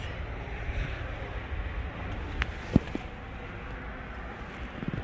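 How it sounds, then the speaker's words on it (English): Low, buffeting rumble of wind hitting the microphone outdoors at a car auction, steady throughout with a few brief knocks and clicks. "I hope y'all can hear me over the wind."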